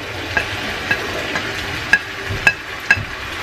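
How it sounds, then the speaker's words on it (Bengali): Fried vegetables being stirred into a fish curry in a pan, with a soft steady sizzle under a series of sharp spoon-on-pan clinks at irregular intervals, close by. "এবং ভালো করে নেড়ে চেড়ে দেব।"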